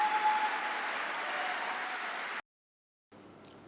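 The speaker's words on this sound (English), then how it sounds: "Please join me in giving a round of applause for Malala Yousafzai, recipient of Equality Now's Trailblazer Award." An audience applauds Malala Yousafzai as she receives Equality Now's Trailblazer Award, a steady wash of clapping that cuts off abruptly after about two seconds, followed by silence and faint room tone.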